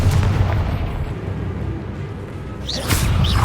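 A Confringo blasting spell in Hogwarts Legacy goes off as a loud rumbling explosion that fades into a low roar, followed by a second sharp burst near the end.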